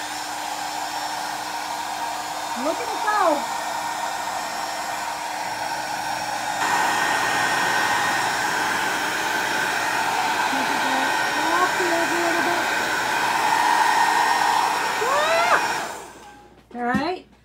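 A Conair hair dryer roars steadily and loudly throughout, blowing on poured paint, with a person speaking briefly over it before the motor cuts off near the end.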